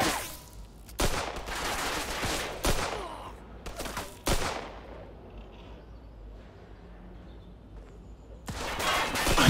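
Loud bursts of gunfire ring out in a Mafia 2 hostage-rescue shootout: several sharp volleys come in quick clusters, then a quieter stretch with faint background noise before another burst at the end.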